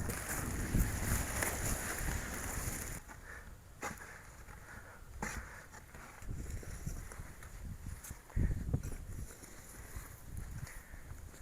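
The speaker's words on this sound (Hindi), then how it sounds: "इतनी ज़बरदस्त हवा चल रही है" Strong early-morning wind blows across a farm field where onion harvests lie under covers, producing rough gusty buffeting against the microphone that surges and eases in uneven waves, with no speech.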